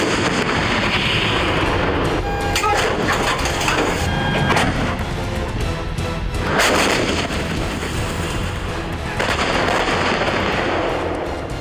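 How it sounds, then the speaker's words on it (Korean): Military artillery firing on a training range, heard as loud, dense booms and blasts with crackling bursts filling the whole stretch, punctuated by heavier impacts every few seconds. "단 하나의 불발도 없이 포탄을 표적지까지 발사하는 데 성공했었죠."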